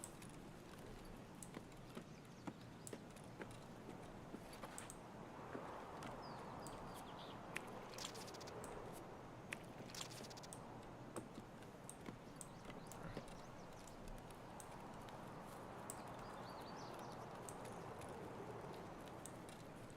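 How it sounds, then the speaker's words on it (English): Footsteps walk steadily in Escape from Tarkov, a quiet, regular pattern of soft taps repeating through a low background wash, with no talking. "they'll hear my footsteps. So I'm just trying to walk."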